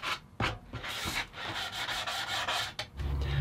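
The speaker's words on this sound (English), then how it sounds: "That's nothing we can't fix with just a little bit of hand sanding." Veneered plywood edges are hand sanded in quick, close, scratchy rubbing strokes, several in a row with short pauses between, loud and dry with no voices.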